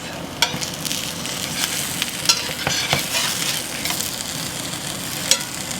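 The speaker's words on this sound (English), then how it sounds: "we're just going to cook these on both sides until we get just a little bit of crispiness on the outside of our taco shells" Potato and mushroom tacos fry in a hot pan, the taco shells crisping in a steady, loud sizzle scattered with sharp pops and light scraping, with no voices.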